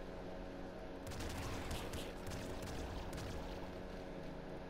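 Rapid gunfire in the video game Nuclear Throne erupts after a second of steady background noise, then keeps up as a dense, continuous barrage of overlapping shots until the end.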